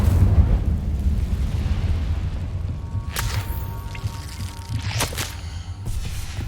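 Incendio fire spell cast in Hogwarts Legacy, a deep rumbling whoosh of flame with a few sharp bursts and crackles over a steady low roar.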